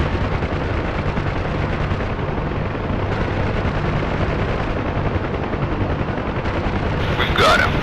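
Door-mounted machine guns firing from a Huey helicopter in the DCS flight simulator: a dense, continuous loud rattle of gunfire over steady rotor and engine roar, with a brief voice near the end.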